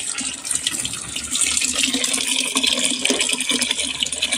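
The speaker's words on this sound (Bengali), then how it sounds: "চলো কলের জলটা বন্ধ করে দিই।" Water gushes steadily from an outdoor tap at a village home, a close, continuous splashing hiss that holds at an even loudness throughout with no voices; the flow does not clearly stop before the end.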